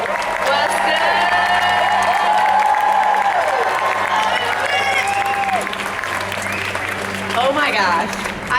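A large convention panel audience applauds and cheers loudly, with dense sustained clapping, whoops and crowd shouts filling the hall, while a voice speaks over the noise on a PA.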